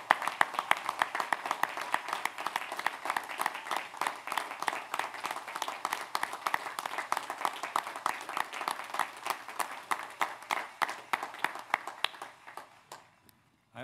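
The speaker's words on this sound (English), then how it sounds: "Why don't you all stand up and clap?" An audience at a university commencement ceremony stands and claps, a steady burst of many hands with a rhythmic pulse, loud and close, gradually thinning out and fading to silence at the end.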